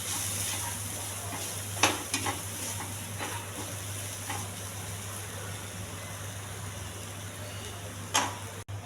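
A tomato and ginger-garlic masala sizzles steadily in a pan, with a few sharp spoon scrapes and clinks as it is stirred close by; no one talks.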